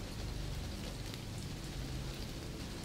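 Steady rain falls without pause in an even, soft hiss of countless drops, gentle and constant throughout with no voices.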